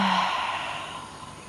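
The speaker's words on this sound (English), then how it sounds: "and exhale through your mouth." A single long breath is exhaled through the mouth during a guided stretching routine, a soft, airy sigh that starts clear and close, then trails off quietly.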